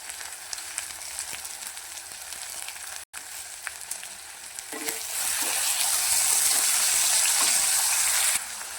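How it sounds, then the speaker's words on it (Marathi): Tomato and coriander go into hot oil over sautéed onion for a dry cauliflower dish, and a faint background hiss becomes a loud, steady sizzle of frying that stays up close and constant, with no one speaking. "टोमॅटो आणि कोथिंबीर टाकून घेऊया। हे पण चांगलं तेलामध्ये फ्राय करून घेऊ।"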